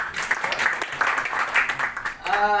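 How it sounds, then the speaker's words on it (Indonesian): An audience at an environmental sanitation and waste management training session claps in a brief, moderate burst of applause, and a speaker's voice comes in right at the end. "Tepuk tangan untuk kita semua."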